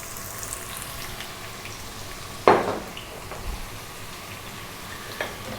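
Chopped onion and small-cut carrots hit hot oil in a pan for vegetable fried rice, giving a soft steady sizzle with one sharper hiss and clatter as the vegetables drop in.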